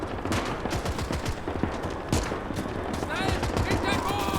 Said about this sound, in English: All of that shooting you can hear in the background as well is real shooting.